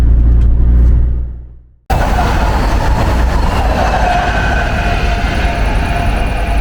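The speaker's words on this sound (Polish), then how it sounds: "Te pociągi tak głośno nie przejeżdżają" A train roars past very close and loud, a steady heavy rumble and rattle that follows a short fading noise and a sudden cut.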